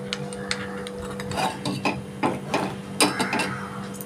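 A small amount of milk with a spoonful of cornflour is stirred in a bowl for custard, giving light irregular clinks and scrapes against a faint steady hum.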